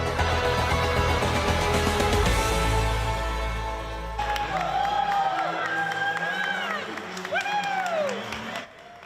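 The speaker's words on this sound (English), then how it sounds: "Welcomed by cheers and applause" A crowd at a cruise ship terminal cheers and claps as seven island families arrive, loud sustained applause for several seconds before a reporter's voice takes over.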